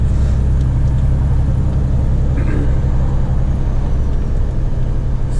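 A red car overtakes a Mercedes Actros truck, heard from inside the cab as a loud, steady engine and road rumble with no clear pass-by swell.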